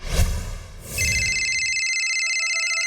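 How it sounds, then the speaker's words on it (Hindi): In a children's cartoon, a telephone starts to ring with a steady electronic tone after a short burst of noise, sounding clear and fairly loud with no voices. "आ गया, लगता है उसी का फोन है।"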